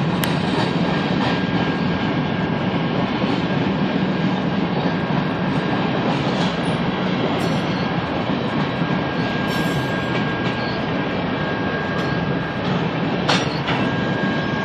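A long BNSF coal train with three engines rumbles steadily northbound past in Frisco, Texas, a continuous heavy roar of wheels and engines with occasional high squeals and no talking.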